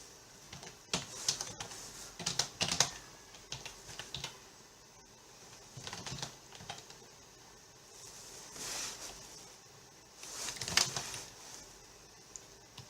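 Typing on a computer keyboard while writing PHP code, steady bursts of quick light key clicks with short pauses between them, close and alone.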